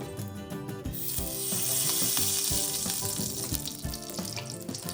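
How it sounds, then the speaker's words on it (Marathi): Ghee sizzling in a hot pan while making rava barfi, a bright close frying hiss that swells after a second, with clattering utensil knocks and scrapes throughout and no talk. "याच्यात तूप घालून घेणार आहे."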